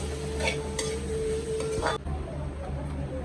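Chopped green chillies sautéing in a pan with utensil stirring and scraping, a steady close sizzle that drops away sharply partway through.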